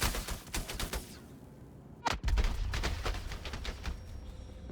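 Gunfire from prison guards in the video game Klesher, a rapid series of loud shots that rises to a heavy burst around the middle and then keeps going as dense, steady fire.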